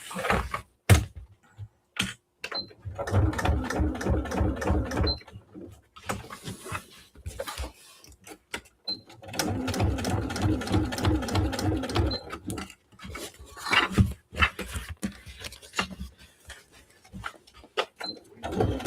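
Sewing machine stitching a fabric bag, running in two long steady bursts with short stops and clicks between them, close and loud with no voices.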